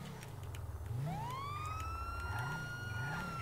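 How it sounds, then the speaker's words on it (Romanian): An emergency vehicle siren in the video game GTA winds up with a rising wail and holds a steady high tone, loud over a low engine rumble. "Am sirene!"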